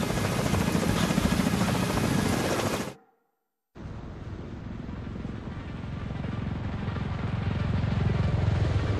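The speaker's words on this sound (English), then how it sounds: "we need to get Chernenko on that extraction chopper now" An extraction helicopter in The Division 2 roars with a loud, steady rotor buzz that cuts out abruptly for under a second, then returns at slightly lower level and builds again, with no voices over it.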